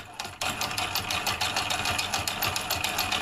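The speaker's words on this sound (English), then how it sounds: "First, I'll run the motor with both solenoids active" A homemade two-solenoid electric motor runs with both solenoids active, giving a steady, fast, even chatter of mechanical pulses like a sewing machine, close and continuous from start to finish with no speech.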